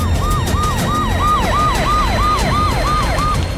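Ambulance siren wailing in a fast, steady repeating sweep, loud and close, with a constant low rumble of traffic beneath it and no talking.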